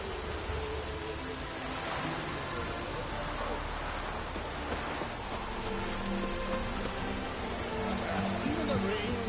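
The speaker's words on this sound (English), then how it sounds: "Rain doesn't bother you, it seems." Steady rain in the video game The Witcher 3, a dense unbroken patter falling on surfaces that holds at an even level from start to finish.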